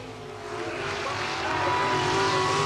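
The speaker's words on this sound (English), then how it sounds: "The big block Chevrolet engines are wailing as they go down that backstretch." Race cars with big block Chevrolet engines wail down a track's backstretch, a loud, sustained roar that builds steadily, with no talk over it.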